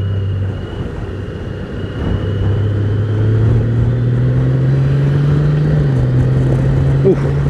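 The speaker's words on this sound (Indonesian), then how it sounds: "Begitu ditarik ya, suara knalpotnya tuh langsung berubah ya." A Honda Goldwing 1800 motorcycle engine drones nearby, its exhaust note rising steadily in pitch as the throttle is pulled and held, a smooth continuous rumble with faint road ambience.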